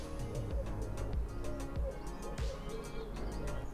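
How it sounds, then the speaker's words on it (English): Birds chirp in short bursts while a dove coos low and steady over a constant outdoor hum. "You can hear the birds chirping away."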